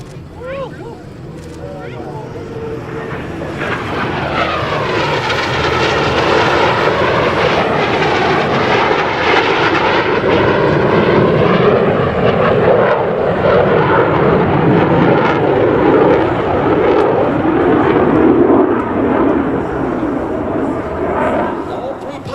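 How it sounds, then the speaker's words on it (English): U.S. Navy Blue Angels F-18 jets at the 2017 New York Airshow roar overhead during inverted crossing rolls, a loud, sustained jet-engine rush that rises and shifts as they pass, with an announcer speaking over it. "Approaching inverted from the left and right, they will roll their aircraft 360 degrees crossing center point."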